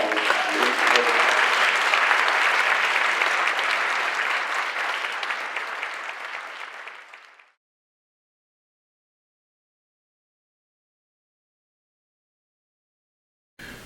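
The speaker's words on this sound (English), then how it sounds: "Another round of applause for Richard Hoagland." An audience at the Earth-Keeper Wesak 2013 event applauds Richard Hoagland, steady dense clapping for about seven seconds that tapers and then cuts to silence.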